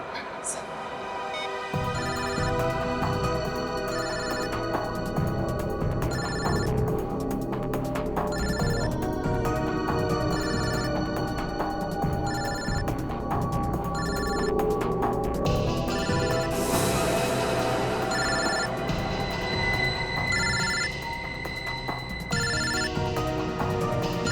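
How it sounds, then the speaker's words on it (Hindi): A phone ringtone plays continuously as a melodic electronic tune, loud and close, with people talking faintly in the background. "फोन तो यही कहीं बज रहा है।"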